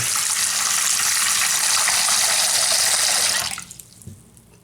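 Water runs in a clogged bathroom sink as a steady, close rushing flow for about three and a half seconds, then cuts off abruptly, leaving near-quiet with a faint trickle and a small gurgle.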